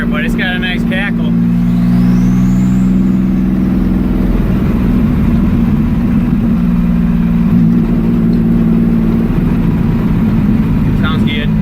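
A Pontiac Fiero engine under way after a rear lower ball joint repair gives a steady, loud, close drone with a crackling exhaust edge. A brief whine rises near the start, and a person talks over it.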